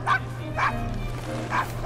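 A dog in a video game cutscene gives a few short yipping barks spaced apart, over a low steady hum, with soft background sounds between them.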